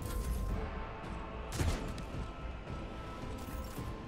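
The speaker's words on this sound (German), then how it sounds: "Der Schuss auf die Hexe ging daneben" A sharp burst of gunfire in Warhammer 40,000: Rogue Trader cracks out in the middle, a missed shot at a witch, set against dense, noisy background action and a few scattered thumps.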